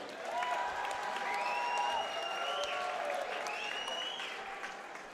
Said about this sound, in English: Round of applause for these two fighters.